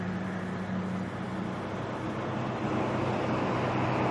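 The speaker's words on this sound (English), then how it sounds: "Go away, truck. You're making too much noise." A truck rumbling past on a road near Auckland Airport, a low steady engine drone with broad road noise that grows slightly louder toward the end, no voices.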